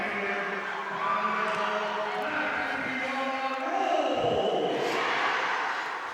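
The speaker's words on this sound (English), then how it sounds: "crowd erupt here at Tria Rink in downtown St. Paul" A crowd at a women's professional hockey game in an indoor St. Paul rink roars and cheers after a shorthanded goal, a loud sustained swell of voices with an announcer talking over it.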